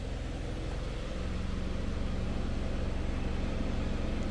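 A car engine idles steadily with the air conditioning running after an aircon refresh spray treatment, a constant low rumble with broadband blower hiss, close and unbroken throughout.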